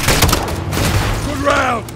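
A rocket launcher hit lands amid a Call of Duty: Modern Warfare II firefight: sharp explosive blasts and gunfire crack close by, with shouting voices over the battle.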